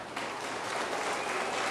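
A school assembly audience applauds buddy classes as they stand, a steady, moderately faint wash of many hands clapping throughout, filling the hall without any speech.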